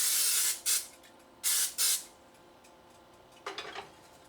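Cooking spray hisses onto a Corning Visions glass skillet in three short bursts, two close together, then a softer, sputtering third after a pause.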